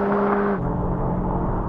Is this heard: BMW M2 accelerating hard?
yes